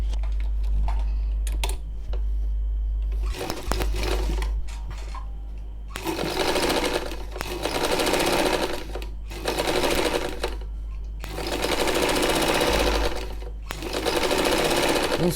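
A sewing machine stitches the lining of a wearable turban cap in loud, steady bursts of rapid whirring, separated by short pauses with a low hum and small handling clicks.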